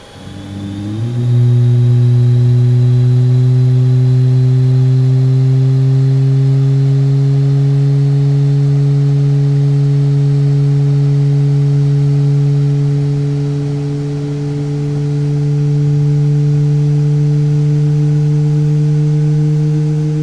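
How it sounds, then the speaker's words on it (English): A simulated Boeing 737 Max jet engine from the iFly add-on starts up in the flight simulator, rising in a whining spool-up and then settling into a loud, steady drone that hums on for about twenty seconds. "The best sounding engine I've ever heard."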